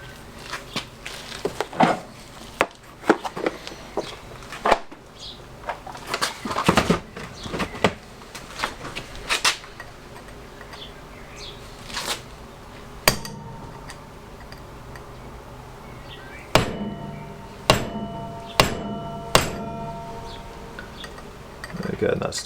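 Sharp metallic whacks from a hammer striking a part on the front brakes of a classic Fiat 500, peening it in, land in irregular single hits and short clusters, loud and close, with clicks and handling noises in between.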